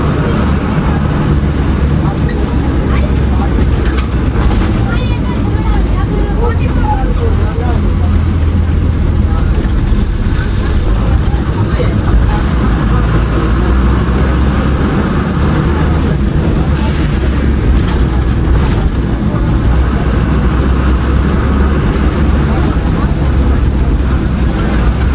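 The Rama Express bus drives from Telka toward Sanghni through mountains, its engine a steady loud rumble with road and wind noise throughout.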